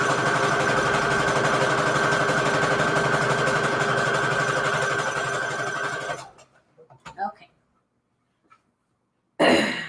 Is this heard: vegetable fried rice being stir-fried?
no